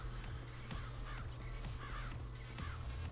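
A crow caws several times in the game Tokyo Jungle, harsh calls coming in short pairs over steady ambient background noise, fairly close and clear.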